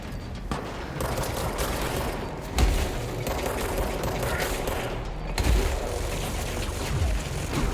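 Heavy, sustained gunfire from the video game Control, with machine gun and sniper shots mixed into a dense, continuous clatter, punctuated by two louder booming hits partway through.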